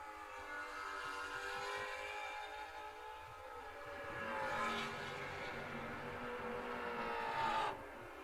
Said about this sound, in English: So we got a Tesla in the left lane. We got the high RPM Mustang in the right.